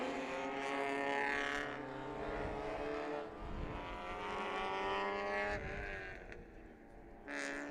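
Race cars parading past on the track out of turn 6, engine notes rising and falling as several cars sweep by at a distance, with Doppler-shifting pitch and a louder pass near the end.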